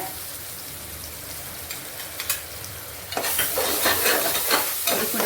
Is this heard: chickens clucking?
no